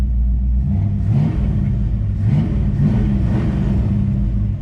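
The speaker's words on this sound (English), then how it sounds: "V8 sounds really good." Close, loud revving from the 289 V8 of a 1965 Ford Fairlane 500 running a Holley Street Warrior carburetor, a steady low rumble lifted by three or four quick throttle blips in succession.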